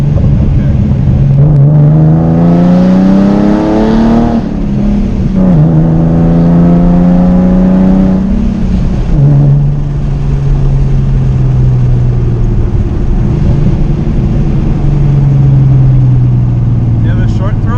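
A 2014 Procharged V6 Mustang pulls hard in third gear from inside the car, its loud engine drone rising in pitch, easing and climbing again as speech runs over it throughout.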